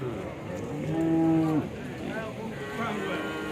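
A Punganur cow at a livestock market gives a single drawn-out moo lasting about a second, loud and fairly close, set against a busy crowd murmur that carries on after it.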